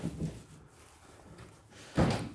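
The door of a 2016 Volkswagen Crafter van on a winter day gives one solid clunk near the end after a quiet stretch, close by, with no talk.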